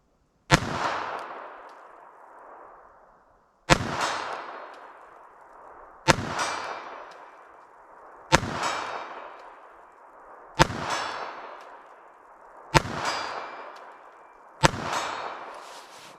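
Seven sharp pistol shots from a .32 ACP pocket gun fired at a target outdoors, spaced about two seconds apart, each a loud crack with a short fading echo, with no talk.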